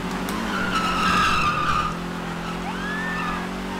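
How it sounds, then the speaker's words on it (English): In GTA V, a car drifts with a loud, sustained tire skid and squeal over a steady engine roar. The screech rises and then eases off partway through. "Practice my drifts a little bit."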